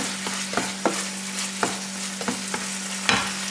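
Tofu is dry-fried in a pan, a spatula scraping and stirring in repeated sharp strokes over a faint sizzle and a steady low hum, close and without voices.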